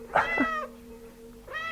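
A cat meows twice, loud and near: a quick double-note cry at the start, then a pause and a second rising meow at the end, with no talk over it.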